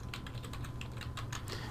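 Rapid keystrokes on a computer keyboard while entering a tag in batch-building software, a steady run of close, crisp clicks with no voices.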